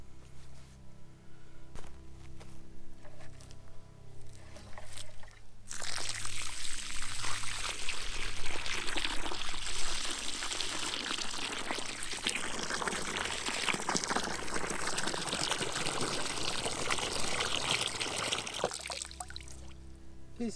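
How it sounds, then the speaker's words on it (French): Six litres of water poured steadily into a hole dug in sandy, chalky ground, a continuous loud gush and splash lasting about thirteen seconds before stopping, with quieter rustling before and after. "je vais verser un petit peu mes 6 litres d'eau dedans"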